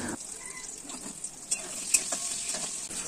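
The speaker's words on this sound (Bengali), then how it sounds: "তো প্রথমে আমি আলুটাকে ভেজে নিচ্ছি" Salted potato pieces frying in hot oil give a soft, steady sizzle close by, with a few brief crackles and light knocks scattered through it.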